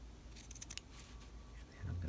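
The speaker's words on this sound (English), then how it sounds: "Now let me trim the other." Quiet snips of scissors trimming fabric at the cuff latch of a raglan coat, a few soft close cuts in a hushed room.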